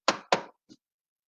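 Knocks on a door: two firm, close raps, then a much softer third, each one short and dry against silence.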